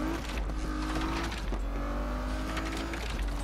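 Car engine droning steadily in Need for Speed Unbound on PS5, with faint tire noise, driven slowly and carefully behind a train, a continuous close hum with no talk.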